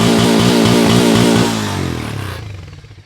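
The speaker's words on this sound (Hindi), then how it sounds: "और अब सुनाते हैं आवाज़ 440X की, और ये रही हार्ले डेविडसन की गुड़गुड़ाहट।" A Harley-Davidson X440 motorcycle engine rumbling up close, a loud, pulsing throb with a few rhythmic revs, then it eases off and dies away.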